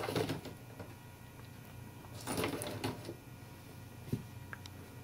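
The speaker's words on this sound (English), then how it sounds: "this sort of mechanism right here, lifts the balls back up to the top, drops them back, ready to be dropped again." A Lego pinball machine's ball-lifting mechanism runs with a soft, quiet mechanical whir and clatter, a couple of louder rattling bursts, and a sharp click near the end.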